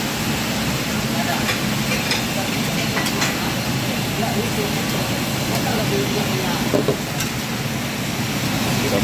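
Mie Aceh noodles cooked in a pan at a street food stall, a dense continuous sizzle with scattered clatter and stirring, and voices talking throughout.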